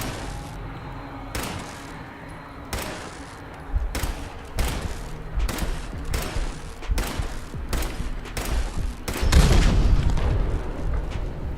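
Automated turret gunfire in Fallout 4 crashes out in a string of sharp, heavy bursts, roughly one per second and growing louder toward the end, over a low background rumble.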